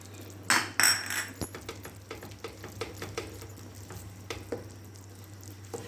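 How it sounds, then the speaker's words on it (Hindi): Onion and chicken cook in a pan with soy sauce and vinegar for bread chicken patties, giving a soft, quiet sizzle with a few sharp utensil clinks early on over a low steady hum. "उतनी देर में जो है हमारे प्याज और चिकन अच्छी तरह से पक जाएगा"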